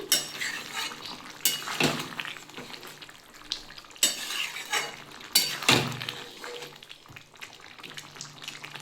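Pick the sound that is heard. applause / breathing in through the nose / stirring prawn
stirring prawn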